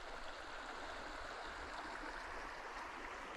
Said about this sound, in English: here's a higher view of the flowing river